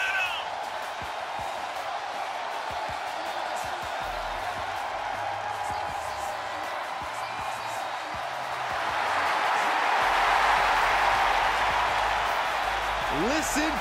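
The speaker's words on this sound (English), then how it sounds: "Listen to this ovation." Wrestling arena crowd at a WWE women's match, a loud sustained roar of applause and cheering that swells around the ten-second mark, with commentators talking over it throughout.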